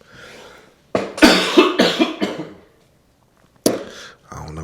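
A person coughs in a harsh burst of several loud, rapid hacks, then goes quiet. One more cough follows a moment later before the sound trails off.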